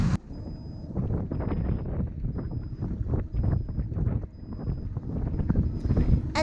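Strong 20-knot wind buffets a sailboat off Greece, a loud continuous rumbling roar with gusty surges, alone without talking.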